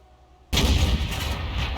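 A tank cannon shot fired in World of Tanks bursts in loud and sudden after half a second of quiet, its heavy boom rolling out into a sustained rumble that lasts to the end.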